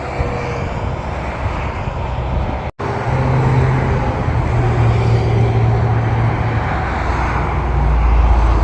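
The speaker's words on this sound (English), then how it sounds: "Here's the cars coming right at us." Steady roar of cars rushing along an interstate below a pedestrian overpass in Albuquerque, a continuous loud traffic wash with a brief dropout near the start, with no talking.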